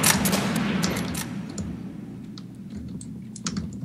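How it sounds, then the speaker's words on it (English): Rapid clacking from a mechanical computer keyboard rattles along close to the microphone. The bursts of keystrokes are dense at first and thin out toward the end, with no one talking. "if you have mechanical keyboards, dude, people are going to hear it"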